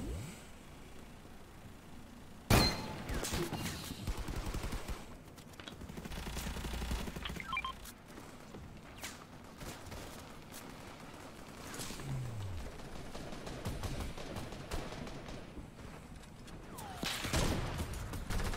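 Fortnite gunfire during a build fight, scattered bursts of shots near and far with a sharp loud crack early on, intermittent clatter and mechanical noise through the rest, fairly faint overall.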